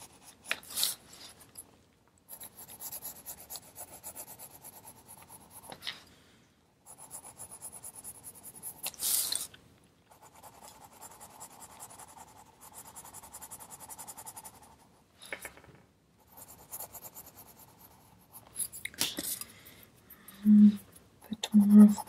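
A colored pencil rubs and scratches across paper during drawing, in quiet stretches of soft, steady strokes broken by pauses, close and faint.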